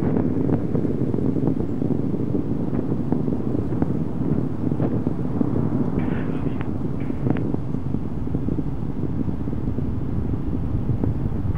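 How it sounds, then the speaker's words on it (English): The Space Shuttle Atlantis main engines throttle back up during launch, a broad, steady, distant roar mixed with wind buffeting on the microphone. It continues unbroken for about twelve seconds. "The engine's now beginning to throttle back up"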